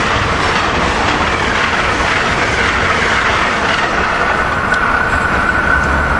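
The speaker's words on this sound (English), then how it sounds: "We got the Crescent train here coming south." Amtrak Crescent train 19, led by ACS-64 locomotive 663, rolls past heading south as a steady, loud rush of wheels and cars with clickety-clack and a thin squeal rising near the end, no voices.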